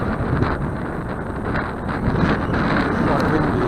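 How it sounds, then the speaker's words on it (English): Strong wind roars across the microphone in a steady, loud rumble, with a faint voice buried in the noise. "It's quite windy though."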